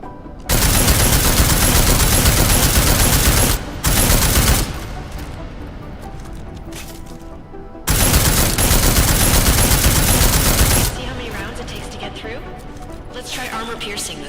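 Automatic weapons fire on a shooting range in Deus Ex: Mankind Divided arrives in two long, loud, sustained bursts. A short burst sits between them, and quieter noise and a voice fill the gaps.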